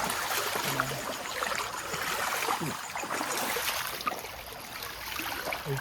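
A fast-flowing stream near a railway track runs with a steady broadband rushing and gurgling, close and continuous, with no one talking.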